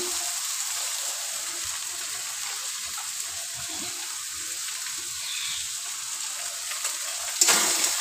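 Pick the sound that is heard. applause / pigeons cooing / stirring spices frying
stirring spices frying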